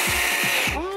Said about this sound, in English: You need to exert force when you drill.